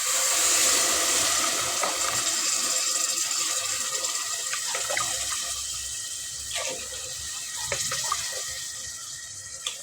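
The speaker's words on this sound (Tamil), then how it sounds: "இப்போ இதில் தண்ணி அளந்து ஊற்றிக்கலாம்." Water pours in a continuous stream onto rice, splashing and gurgling close by as a vessel fills, with a few small clinks partway through.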